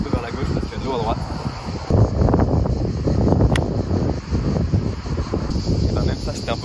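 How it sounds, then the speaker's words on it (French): Steady wind buffets the microphone on an open golf course by the sea at La Grande Motte, a continuous rough rumble lasting throughout, with faint insect-like chirping beneath and no clear talk. "Je vais les passer, mais il y a du vent."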